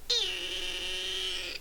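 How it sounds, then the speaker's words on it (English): A cat gives one drawn-out, very squeaky, high-pitched meow up close, rising at the start and holding steady for more than a second before trailing off, alone and with no talk. "she has a very, very squeaky little meow"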